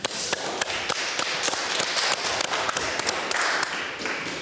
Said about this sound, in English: One round of applause for Letta and Sam.